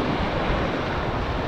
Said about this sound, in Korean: 오늘 전체적으로 파도가 세가지고